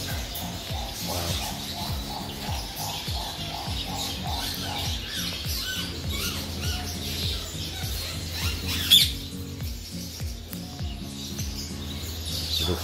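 Pet birds at a bird farm supply store chatter and squawk continuously, a busy, layered din of calls over a constant background hum.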